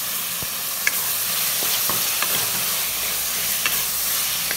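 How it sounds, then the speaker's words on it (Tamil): Chicken curry gravy sautéing in a pan, a steady soft sizzle and hiss with occasional light scrapes and clicks of a stirring spoon, no voices. "இது லைட்டா கொஞ்சம் அப்படியே வதக்கிக்கலாம் ஒரு 1 மினிட் வதக்கிக்கலாம்"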